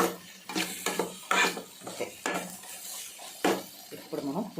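Spoon stirring a tamarind curry with eggplant, tomato and eggs in a metal pot, scraping in uneven strokes with a soft sizzle underneath, close and moderately loud, no talking.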